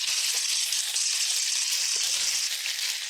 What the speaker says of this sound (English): So I'm going to put my beef in here and give that a good sear.